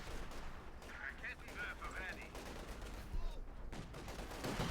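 Dense infantry gunfire from a Company of Heroes 2 battle, Soviet troops laying down sustained fire against German forces, crackling continuously at mid distance with scattered sharper reports and a voice talking over it.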